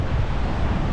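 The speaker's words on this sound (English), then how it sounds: "It's windy as shit," Strong wind roars loudly and continuously into the microphone at a beach, a dense low rumble with nothing else standing out.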